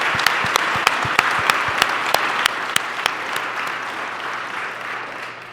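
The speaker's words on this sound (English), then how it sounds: "So let's give them a round of applause." A Canadian Club luncheon audience applauds, steady and fairly close, with distinct sharp claps standing out over the crowd's patter, slowly tapering off.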